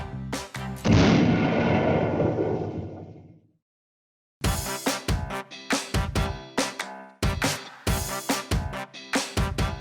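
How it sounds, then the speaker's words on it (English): Fireworks go off as a long booming burst that fades out, then after a short silence a rapid series of sharp, loud bangs and pops follows, each one distinct and close together, with no talking. "it's hard to control where a firework will explode"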